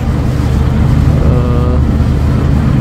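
Passenger launch MV Naria 2, a small two-and-a-half-deck river boat, churns along a river with a steady low engine drone and water rush, continuous and fairly loud with wind buffeting.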